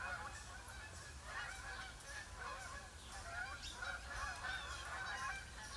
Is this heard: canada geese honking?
yes